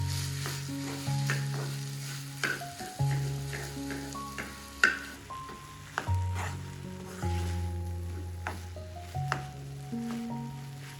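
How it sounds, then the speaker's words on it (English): Boiled, drained noodles being stirred and mixed with tempura in a bowl, giving soft repeated squishing and clattering strokes close by, with no talking. "Mix the boiled and filtered noodles well with the tempura."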